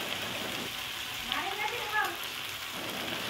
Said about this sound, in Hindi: अब ये हमारी भिंडी तो हो रही है फ्राई।